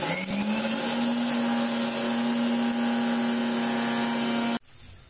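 A mixer grinder grinding fresh coconut whirs loudly and steadily with a high motor whine, then cuts off abruptly near the end.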